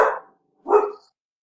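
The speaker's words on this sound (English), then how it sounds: "my puppy feels like he needs to chime in and bark at the ice cream truck" A puppy barking at an ice cream truck: two short, sharp barks, close and fairly loud, separated by a brief pause of silence.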